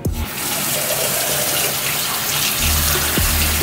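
Tap water runs steadily into a sink, rinsing out a pore sucker, a continuous close splashing stream that grows slightly fuller near the end.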